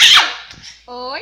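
A small dog lets out a short, sharp yelp close by, followed by a brief spoken word.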